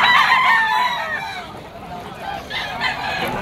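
A bull stag fighting rooster at a poultry sale crows loudly and nearby in a drawn-out call. Other fowl cluck faintly in the background.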